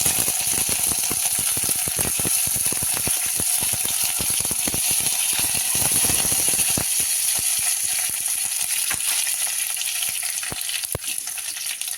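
Cumin and curry leaves sizzle and crackle steadily in hot oil for sambar, a dense spattering hiss that gradually settles toward the end.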